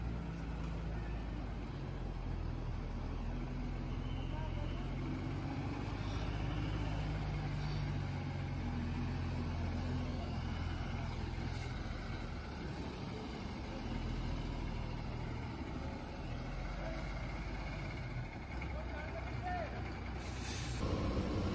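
A bus from Palampur to Kullu idles at a roadside counter, its engine rumbling steadily throughout, with brief hissing bursts from the air brakes near the middle and at the end.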